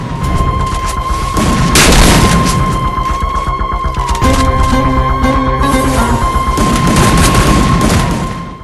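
Dense gunfire and explosions from a battle royale video game, with an M10 among the weapons, crackle and boom continuously at close range and high volume, with no voices.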